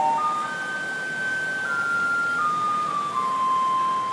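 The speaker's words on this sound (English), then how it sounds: "Even the garbage trucks make noise here." Garbage truck on a street in Taiwan plays a steady electronic melody, a clear tinkling tune of held notes sounding over low traffic hum.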